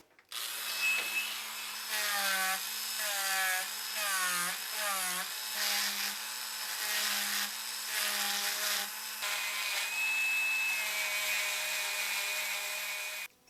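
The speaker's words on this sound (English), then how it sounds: "to shape the socket, the concave part, I'm using a little drum sander on my Dremel" A Dremel rotary tool with a small drum sander whines at high speed while shaping the concave socket of a wooden fishing lure, its pitch dipping and rising under load as the sanding drum grinds against the wood, close and continuous.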